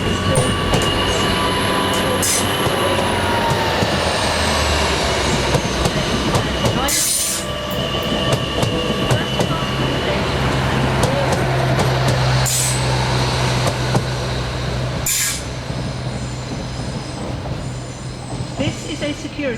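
A train pulls into a platform at Doncaster station, its loud rumbling wheels and squealing brakes filling the scene, with sharp metallic clanks and hiss bursts at intervals.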